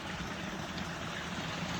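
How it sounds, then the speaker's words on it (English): A steady, broadband rush of falling water from a pretty trailside waterfall at High Gap Park, Big Canoe, Georgia, continuous and unbroken with no voices. "Another view of this pretty waterfall."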